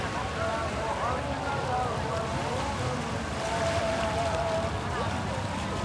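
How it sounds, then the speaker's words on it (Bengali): A speedboat travelling across the sea off Kuakata beach, its steady engine drone mixed with constant wind and wave wash, with a brief higher whine partway through; people talk nearby. "এখানে একটা স্পিড বোট কিভাবে যাচ্ছে"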